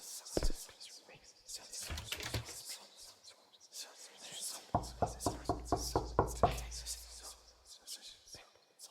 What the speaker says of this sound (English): See, the door knocking is just me right-clicking on the door